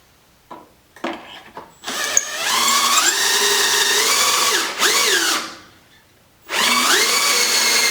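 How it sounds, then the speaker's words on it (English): A power drill bores holes in wood for an outdoor bench: a few short clicks and trigger taps, then a loud, close whine that bogs down and pitches up, stops, and starts again. "I'm just going to go ahead and drill my holes"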